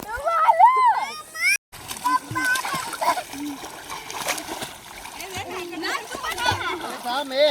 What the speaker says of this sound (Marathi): आता आम्ही अंघोळ करतोय नदीमध्ये